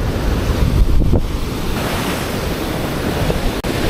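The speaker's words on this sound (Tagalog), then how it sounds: "Grabe yung lakas ng alon." Strong ocean waves pound against rocks in a continuous loud roar, with a heavier surge near the start and wind buffeting the microphone throughout.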